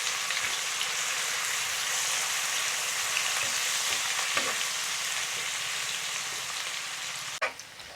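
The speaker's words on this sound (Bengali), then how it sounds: "এখন আমি এটা একটু ভেজে নিব।" Chopped onions with salt and turmeric fry in oil for a stinging catfish bhuna, giving a continuous close sizzle with light crackles and a sharp utensil knock near the end.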